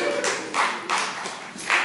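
Audience members at an acoustic concert by Joe McElderry at The Stables in Wavendon clap in time, steady rhythmic bursts roughly every third of a second, close and fairly loud with no voices.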